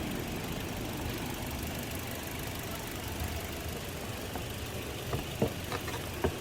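A car engine idles after a spark plug change, giving a steady, close, low rumble that holds at an even level, with a few sharp knocks near the end and no talking.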